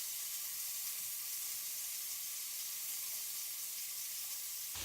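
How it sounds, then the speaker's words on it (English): Beef and onions frying in hot oil, a steady bright sizzle and hiss that holds evenly throughout with no voices over it. "The oil is hot for the beef. I'm going to go ahead and add some of this beef. And then the onions."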